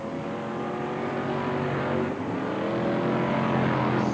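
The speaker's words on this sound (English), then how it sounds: "So the cars go down the home straight" F1 stock cars racing down the home straight at Mildenhall in 1987, a loud continuous roar of several engines droning and swelling as they pass, with no talk.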